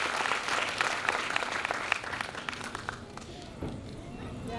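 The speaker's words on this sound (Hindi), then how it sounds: "डायरेक्टर सर के लिए जोर से तालियां बजाएंगे।" Students and guests at a school annual function clap loudly for teachers, the principal and the director, a burst of applause that thins out, with scattered claps and a voice near the end.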